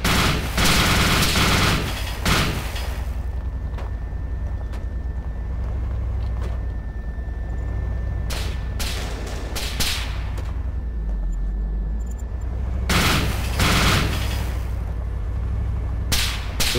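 Gunfire in the DayZ video game, several loud close bursts of rapid shots separated by quieter stretches, with sharp cracks and echoing tails across the field.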